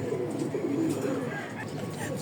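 Pigeons cooing softly inside a loft, low murmuring calls repeating over a steady background, fairly close.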